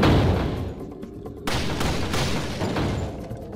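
Handgun fire in Resident Evil 4 HD on PS3 lands as heavy booming shots with a dull thud; one loud report opens and another hits midway, each trailing off into rumbling reverberation.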